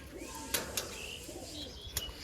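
High-flying bazi pigeons coo softly in low, murmuring phrases, with a few sharp clicks and light rustles standing out against quiet background noise.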